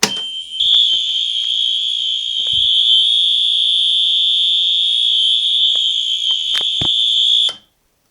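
A fire alarm triggered by a manual pull station blares a loud, continuous high-pitched electronic tone for about seven seconds, then cuts off abruptly, with a few faint clicks underneath.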